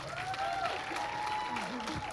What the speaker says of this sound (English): Can we give Donna and Rosie a round of applause?